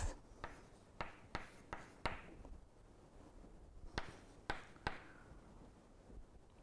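Chalk or marker strokes on a board during a vector space lecture, a series of sharp taps and short scratches in uneven bursts, close and fairly quiet, with no talking.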